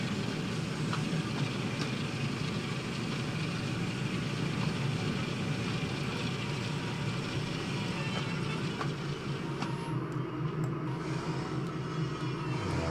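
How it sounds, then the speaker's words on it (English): Train rumbling past a signal in Train Sim World 5, a continuous steady low roar of wheels and engine throughout with no break, close and even in level, with no talking over it. "Whole train's got to get past the signal."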